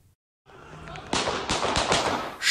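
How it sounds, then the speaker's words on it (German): Gunshots ring out in a street shootout between rockers and clan members in Hamborn, Duisburg: several loud, sharp bangs follow one another quickly over a noisy background after a brief silence. "Schüsse mitten in Hamborn."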